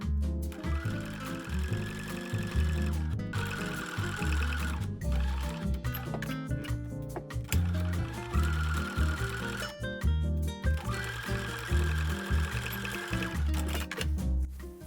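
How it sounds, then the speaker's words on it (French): A sewing machine stitches a seam along the edge of a bag pocket, running in long steady mechanical bursts with brief pauses between runs, close and moderately loud, alone without talk. "je viens faire une couture ou nervure sur le bord de ma poche"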